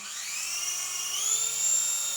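A drone's small propellers spin up with a high-pitched motorized whine rising steadily in pitch, close and continuous.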